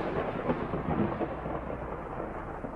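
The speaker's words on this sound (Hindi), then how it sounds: "फिर बारिश जोर से उन दोनों पे बरस रही थी।" Thunder rumbles low and rain pours steadily at a low level, forming a background effect under the narration of an Urdu audio novel.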